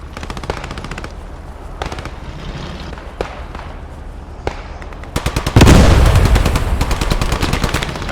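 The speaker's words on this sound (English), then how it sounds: "Taking suppression fire, but no idea where from." Machine gun suppression fire in the World War II shooter Post Scriptum, heard as bursts of rapid automatic shots. Scattered distant single cracks come first, then a loud, sustained rattle of close fire takes over the last few seconds.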